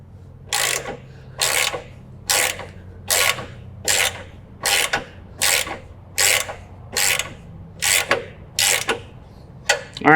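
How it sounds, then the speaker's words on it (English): A wrench turning the deck adjustment nut on a John Deere E100 tractor-style mower, about thirteen evenly spaced metallic ratcheting scrapes, close and clear, repeated steadily over a low background hum. "we're going to actually be turning this nut counterclockwise here"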